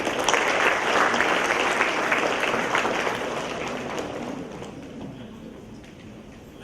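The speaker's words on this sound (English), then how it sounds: "Can we have another round of applause" Loud audience applause at the BIT Achiever Award and Farewell Function 2014, a dense sustained wash of many hands clapping that gradually thins and fades toward the end.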